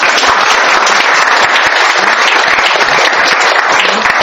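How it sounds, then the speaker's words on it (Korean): A lecture audience bursts into loud, close, sustained applause, a thick and steady clatter of many hands clapping at once with no pause. "큰 박수 한번 쳐주세요."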